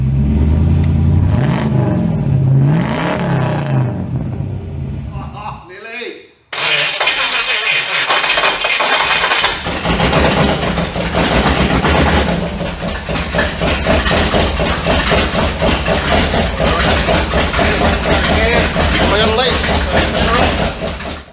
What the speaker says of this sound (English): The HT, she's running. Not driving, but running.